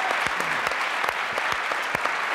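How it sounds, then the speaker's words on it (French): A television studio audience breaks into applause on a French talk show, brisk crowded clapping with sharp individual claps standing out, loud and continuous throughout. "Je pense qu'on peut vous applaudir pour ce que vous faites."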